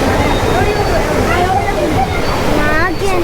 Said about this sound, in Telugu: సో ఇప్పుడైతే చాలా వాటర్ అయితే వెళ్తున్నాయి